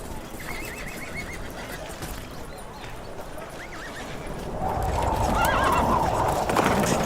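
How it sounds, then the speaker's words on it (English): A winged horse gallops and neighs amid music, with steady clip-clop hooves and whinnying calls in a loud mix that swells toward the end, while someone talks over part of it. "it's Ronnie himself arriving on a winged horse, a Pegasus"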